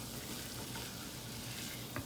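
Flour roux cooking in a pot for chicken pot pie, a faint, even bubbling sizzle throughout with one tiny scrape near the end.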